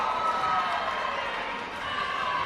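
A steady, roaring crowd cheers continuously inside Hayes Gymnasium during a women's college volleyball match, a dense wash of voices filling the hall without pause.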